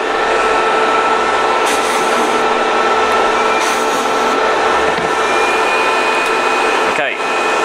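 A polishing machine motor runs steadily while silver is worked to remove fire stain, a loud continuous whirring drone throughout that dips and stutters briefly near the end, as from a faulty switch.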